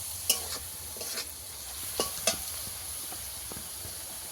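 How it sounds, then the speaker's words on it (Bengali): Potatoes frying soft in a pan, stirred with a utensil: a faint, steady background sizzle broken by a few sharp scrapes and clinks of metal against the pan. "আলু একদম সিদ্ধ হয়ে গেছে ভাজতে ভাজতে"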